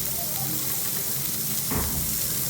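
Long-cut ivy gourd (tondekayi) fries in a pan with a steady, close hiss of sizzling oil and a brief louder splutter near the end.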